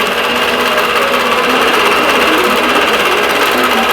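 A machine stitches a quilt design, its rapid, even mechanical chatter running loud and steady close up without a break.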